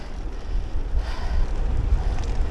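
Gusty wind buffets the microphone on a bike ride along a canal towpath, a low rumbling roar that surges and eases without a break, with no talking.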